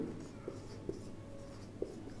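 Pen writing an accounting entry on paper, soft faint scratching with a few small taps, close and quiet.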